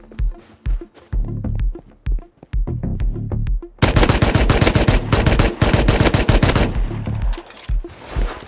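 AK assault rifle fire in the game Rust: a few separate loud shots, then a sustained full-auto burst of rapid cracks, close and punchy, ending in a short tail of distant pops.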